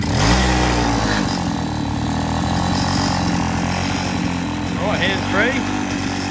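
A mini bike's small engine idles steadily with a rough, buzzing putter, close by, with brief revs and faint voices near the end.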